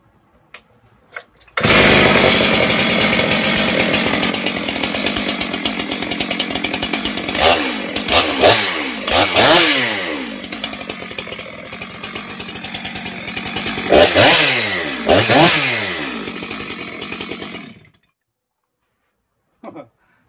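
Small engine on a test run, blaring loudly through its exhaust with a harsh buzzing drone, revved up in several surging bursts before abruptly cutting out, with brief clicks at the start and end.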